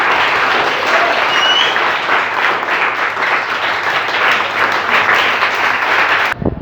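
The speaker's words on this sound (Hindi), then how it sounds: "हो जाए तालियां जोरदार, हो जाओ।" A classroom of students gives loud, sustained applause after a science lesson on contact and non-contact forces, dense clapping that holds steady for over six seconds before cutting off abruptly.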